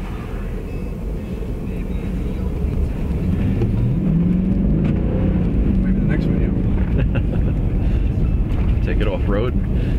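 A 2020 Ford F350 Super Duty pickup cruises along a scenic road, a steady low engine and road drone heard from inside the cab with wind rush, while people speak briefly over it near the end.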